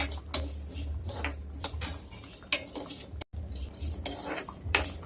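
A utensil scrapes and clinks against a pan as spices are stirred together over a low flame for masala chillies, irregular metallic taps and scrapes close by, with no talking.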